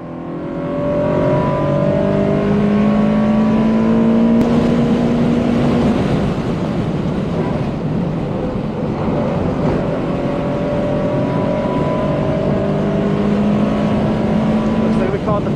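Race cars at speed on a track with a Spec Miata following close behind, a loud continuous engine roar from inside the car with rising and falling pitch through gear changes.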